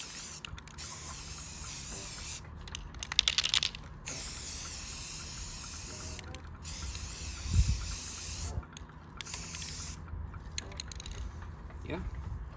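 Spray paint hissing onto the round hand guards of a Lancer Tactical Commando airsoft gun, in repeated close bursts separated by short pauses, with a few clicks and a person speaking in between.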